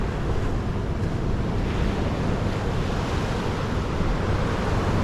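Pacific Ocean surf rolls and crashes in a steady broadband roar, with gusting wind buffeting the microphone throughout; no voices, just continuous near wash of waves.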